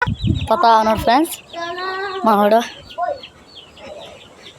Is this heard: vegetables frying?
no